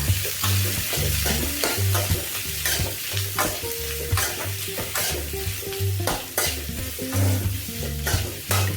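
Three large onions sautéing in a pan for hotel-style kara chutney, a steady sizzle broken by repeated clacks of a spoon stirring against the pan, close and fairly loud, over a low tonal hum.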